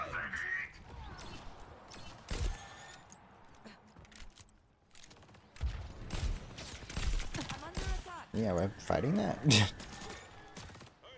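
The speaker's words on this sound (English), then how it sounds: "The gunshot scared me." Gunfire in an Overwatch match on the Ana map, with sharp shots scattered through the round under excited player voices talking over voice chat.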